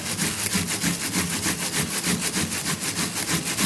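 Onion being grated on a metal grater: continuous rhythmic rasping strokes, close up and steady for several seconds, with no speech over them.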